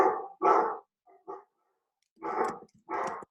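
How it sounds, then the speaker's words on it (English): A dog barks in four loud, close bursts spaced across a few seconds, with a short quieter yelp between them, in a quiet room with no talking. "I'm gonna go tell the dog to be quiet"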